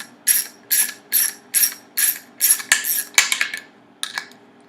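A 1/2 inch screw is turned into a homemade iPhone tripod mount, giving a series of about ten short, close metallic ratcheting scrapes in a regular rhythm, then a few quicker ones and a last pair after a pause.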